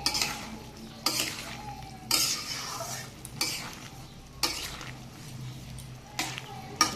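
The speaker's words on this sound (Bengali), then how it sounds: "দেখুন, এইদিকে আদা আর জিরে আমি ফোড়নে দিয়ে নিয়েছি।" A spoon stirs ginger and cumin sizzling in tempering oil in a pan for a Bengali carrot, turnip, bean and potato dish, with repeated scraping strokes over a continuous close frying hiss.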